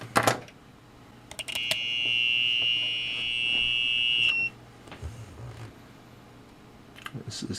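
A UNI-T UT15C tester in continuity mode gives one sustained, piercing electronic beep of about two and a half seconds, framed by clicks and handling taps from the probes.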